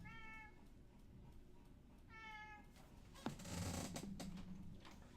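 A cat meows twice in a quiet room, short clear calls a second or two apart, followed by a brief knock and rustling handling noise.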